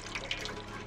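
A cat character drinking from a water tap in a cat video game: a faint, steady trickle of running water with small splashes, short and unbroken, with no voices over it.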